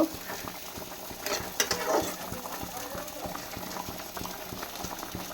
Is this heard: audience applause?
no